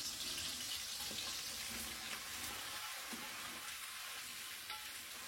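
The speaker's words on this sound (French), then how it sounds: "Alors voilà, nos oignons, on les fait sauter jusqu'à temps qu'ils soient translucides." Onions sauté in butter in a pan, a soft, steady sizzle heard close but quiet, with faint stirring movements and no voices.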